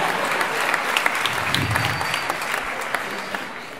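Studio audience applauding throughout, a dense steady wash of clapping with a few louder individual claps, continuous and moderately loud.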